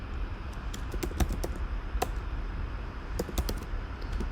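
Computer keyboard keys clicking in quick irregular bursts of several taps, with pauses between groups, close and fairly clear over a low steady room hum while a form is filled in.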